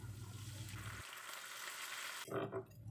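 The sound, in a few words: onion and blended spice paste frying in a pan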